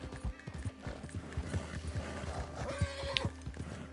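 A horse in Red Dead Redemption 2 whinnies while its hooves clip-clop in a steady rhythm, close and moderately loud, and the animal sounds agitated.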